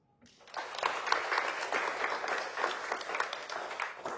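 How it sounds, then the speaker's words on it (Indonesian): An audience claps in applause at a campus lecture in Mataram, a dense, steady burst of many hands that rises quickly and holds for about four seconds. "Sekali lagi kita beri aplaus"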